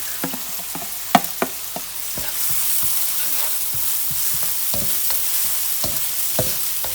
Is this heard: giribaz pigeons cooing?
no